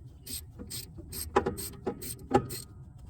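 A brake slack adjuster on a vehicle is ratcheted to close the gap, giving a close series of sharp metallic clicks at an uneven rhythm, with a few louder clacks among them.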